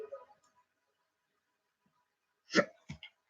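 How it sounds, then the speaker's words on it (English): Two quick hiccups from a woman in a quiet room, a sharp one followed by a softer one a moment later, after brief faint speech at the start. "I got a hiccup"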